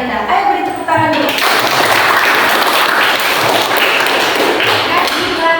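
Children in a classroom lesson on the solar system applaud together, dense close clapping that starts after a brief spoken prompt and carries steadily to the end.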